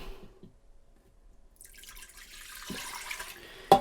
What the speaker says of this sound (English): I'm going to go ahead and just put my 2 cups of water in there